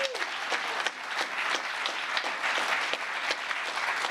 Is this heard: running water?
no